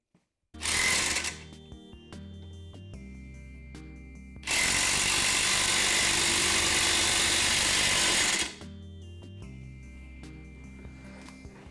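An impact wrench tightens the lower ball joint clamp against the control arm on a Hyundai Santa Fe, firing in two loud close bursts: a short hammering rattle, a pause, then a longer sustained run of about four seconds.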